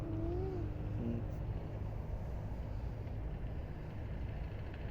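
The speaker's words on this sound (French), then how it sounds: "Elle roule pas vite la voiture." A car engine hums at a low, steady pitch as it rolls slowly past, the drone holding even for several seconds before easing off.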